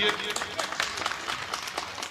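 A burst of audience applause at a Hindi poetry recital, dense overlapping claps filling the short moment at moderate volume.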